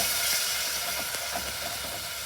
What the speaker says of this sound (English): You hear that amazing sizzle.